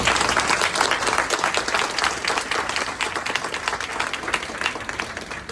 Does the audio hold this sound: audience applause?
yes